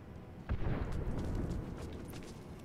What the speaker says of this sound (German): Was zum Teufel explodiert hier alles?